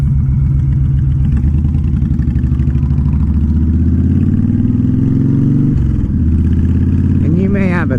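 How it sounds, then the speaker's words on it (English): Honda Fury factory chopper with a 1300 cc engine runs loud and close, a deep steady low throb with a slight rev shift near the end, while someone talks over it. "That might sound like a big engine to some people."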